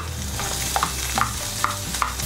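Ground pork frying in a pan, a steady close sizzle broken by a few sharp clicks of a utensil stirring against the pan, without any voices.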